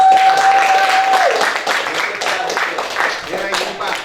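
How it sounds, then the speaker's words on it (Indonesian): A group claps together in a dense, steady patter, with voices mixed in under the applause. "Tepuk tangan dong kelompok"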